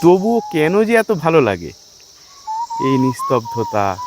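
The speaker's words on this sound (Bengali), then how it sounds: "পাখির ডাক, ঝিঝি পোকা," Crickets in the Darjeeling hills keep up a steady, continuous high chirring that runs beneath someone speaking nearby.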